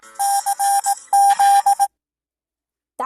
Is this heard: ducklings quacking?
no